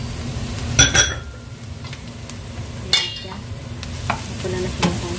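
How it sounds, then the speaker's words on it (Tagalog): Ground pork for empanada filling sizzles in a pan under steady stirring, with a continuous close frying hiss broken by a few sharp scrapes and clinks of a metal spatula against the pan. "Tapos ilalagay na natin yung ating ginili."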